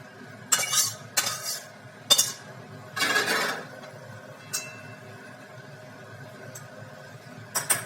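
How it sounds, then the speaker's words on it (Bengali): Katla fish curry poured from a pan after the gas is switched off: a few close clinks and scrapes of utensil against metal, with a short stirring, sloshing rush, then quieter pauses and light taps, no talking. "এবারে আমি মাছের ঝোল ঢেলে নেব।"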